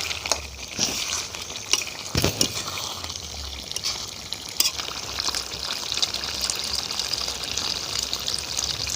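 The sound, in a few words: water poured into chicken curry in pan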